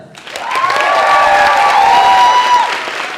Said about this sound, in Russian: хотелось бы попросить нашего теплого зрителя поддерживать все команды громкими аплодисментами